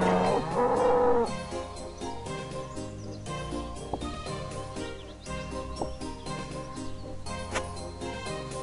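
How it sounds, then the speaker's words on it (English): Cattle lowing in RuneScape, a baby cow among farm cows, a loud low moo at the start then softer bovine calls repeating over a busy game backdrop with faint jingles. "This baby cow does more damage than the regular cow, I think."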